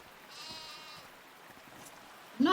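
In the video game Season: Letter to the Future, a bighorn sheep lets out a single brief bleat right at the end, following soft ambient tones and near-silence.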